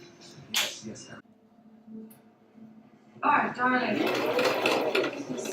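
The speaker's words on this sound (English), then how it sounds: "I approve of this sewing machine." A sewing machine whirs in short bursts while stitching a dress, then runs steadily and loudly for a couple of seconds.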